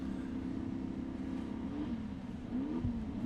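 Class 11 Baja Bug race cars at an off-road race track rumbling and revving together at close range, a steady low engine drone with a couple of rising throttle blips near the end.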